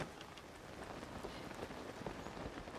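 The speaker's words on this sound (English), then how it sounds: "Love the sound of the rain on the paraglider." Rain patters on a paraglider in Zelda: Tears of the Kingdom, a soft, steady hiss of fine drops that stays quiet and unbroken.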